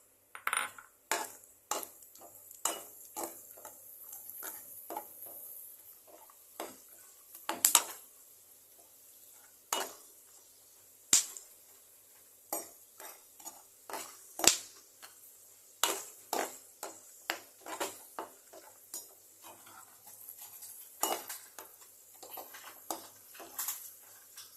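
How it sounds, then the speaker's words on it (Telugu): Dry fruits stirred as they fry in ghee in a pan, with a run of sharp clinking taps and light scrapes from close by over a faint background hiss, with no talking. "ఇప్పుడు అదే ఘీలో డ్రై ఫ్రూట్స్ ఫ్రై చేసుకుందాం."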